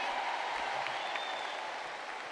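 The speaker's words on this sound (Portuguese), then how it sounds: "Isso aí, ó, uma salva de palmas." A religious retreat audience gives a round of applause, with steady dense clapping from a crowd, fairly quiet and continuous across the moment.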